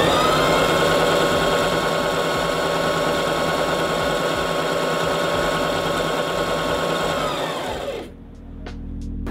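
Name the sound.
Brother JV1400 portable sewing machine running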